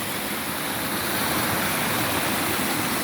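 A small stream waterfall pours over natural rocks beside a farm, giving a continuous, even rush of water that stays loud and close throughout with no voices.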